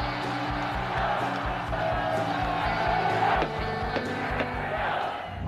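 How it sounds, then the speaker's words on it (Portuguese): A large crowd of Flamengo football fans celebrates the championship, a dense, continuous roar of cheering and chanting with rhythmic pulses, loud and sustained throughout. "Festa da torcida"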